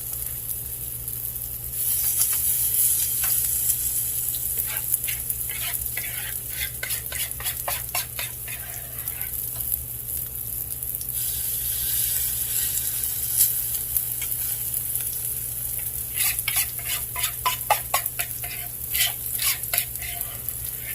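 Onion fritters frying in a small amount of grease in a pan, a steady close sizzle with bursts of crackling and occasional stirring scrapes, no talking.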